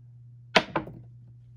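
Dice thrown onto a casino craps table land in two quick, sharp clattering knocks, close and fairly quiet over a low steady hum.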